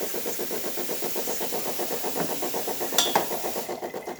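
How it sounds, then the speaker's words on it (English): A DeLonghi espresso machine dispenses hot water with a steady rhythmic pump chug and hiss, close and continuous, with a brief clack near the end. "now we're going to be testing the hot water of the machine"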